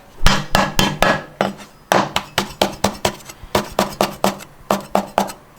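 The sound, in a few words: chopping ginger with cleaver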